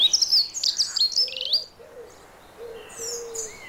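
A dunnock, or hedge sparrow, gives rapid high chirps and warbling notes in a British springtime suburban garden, loud and close at first, then softer calls follow.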